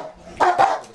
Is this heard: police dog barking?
yes